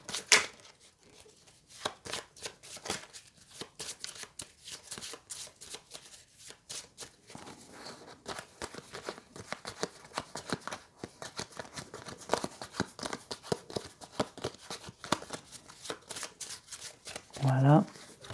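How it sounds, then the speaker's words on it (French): A deck of game cards is shuffled by hand in a solo tabletop racing game, with repeated crisp riffles and flicks close by. A voice talks over much of the shuffling. "je remélange ma pioche"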